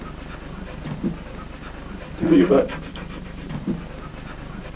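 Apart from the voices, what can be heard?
dog panting while being cleaned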